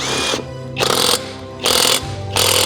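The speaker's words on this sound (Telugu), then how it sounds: "సో ఎయిర్ గన్ తో టైట్ చేసినండే ఈజీగానే మనకి డ్రై షాఫ్ట్ నట్ కూడా ఈజీగానే వచ్చేసింది" An Ingco pneumatic air impact gun working a car's drive shaft nut, heard as three loud, sustained bursts of rattling hammering, each under a second long, separated by short pauses.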